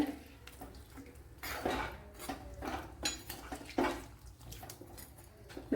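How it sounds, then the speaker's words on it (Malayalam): Cooked gooseberries poured with their cooking water into a vessel while making gooseberry pickle, heard as uneven splashes and sloshes mixed with clinks and scrapes of a pot, close by. "വെന്ത നെല്ലിക്ക ഒഴിച്ചു കൊടുക്കാം. ഞാൻ വെള്ളത്തോട് കൂടിയാണ് ഒഴിച്ചു കൊടുക്കുന്നത്."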